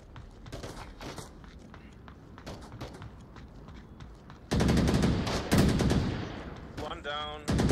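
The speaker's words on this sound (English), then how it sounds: "Oh, see, they're shooting at us already." Rapid bursts of automatic gunfire in the VR shooter Onward, starting distant and sparse, then erupting into loud, dense fusillades with a voice talking early on.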